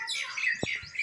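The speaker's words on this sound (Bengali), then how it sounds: "পাখি ডাকে কিচির মিচির করে।" Birds chirp and tweet outdoors on a cold winter morning, with bright, overlapping calls that are close and clear, plus a couple of soft low thumps near the middle.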